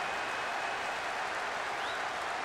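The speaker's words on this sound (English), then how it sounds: "The crowd starting to get impatient now." Stadium crowd noise from the PES 2013 football video game: a continuous, broad, fairly faint wash of crowd roar and murmur that holds steady throughout, with no voices in front.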